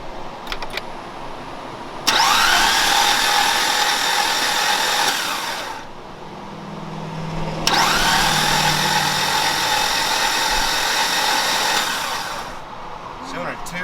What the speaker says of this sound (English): We're going to try to crank this thing over and see what kind of compression it builds